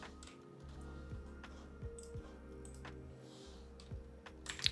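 Computer keyboard keys tapped in short irregular bursts during a Mimikatz silver-ticket demo, quiet clicks over a steady low electronic hum, with no one talking.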